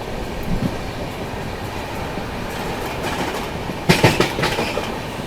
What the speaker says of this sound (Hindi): कोई पैसेंजर ट्रेन बगल से क्रॉस हो रही है।